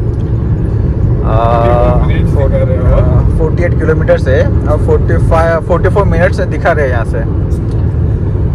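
A car cruises on a highway at about 120 km/h, giving a steady, loud road and engine rumble throughout, with people talking inside the cabin over it.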